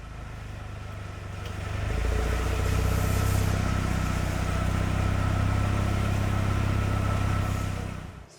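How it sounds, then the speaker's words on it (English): A Brabus B35S tuned Mercedes-AMG A35 with valve-controlled exhaust in Sport Plus mode swells into a deep, loud, steady rumble. It grows from a quieter start, holds a sustained drone, then fades at the end, with no talking. "suddenly you get a different sound coming from the exhaust, which must be the valve control"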